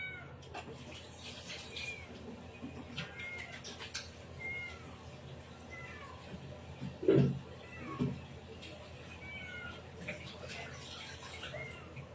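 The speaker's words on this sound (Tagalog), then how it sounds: "Ang pusa." A cat meows indoors, one short call around the middle followed by a second fainter one, set against a quiet room with soft background talk.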